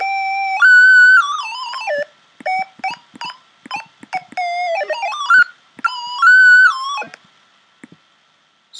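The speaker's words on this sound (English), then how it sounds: "Triangle wave." Triangle-wave synth tone played in Chrome Music Lab, with the pitch swept up and down by dragging on screen, producing gliding notes, short stabs and pauses, loud and clean, with no talking.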